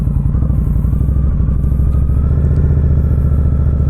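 An Indian Scout Bobber Sixty motorcycle engine idles up close, a steady, loud, low rumble with a rapid even pulse throughout and no talking.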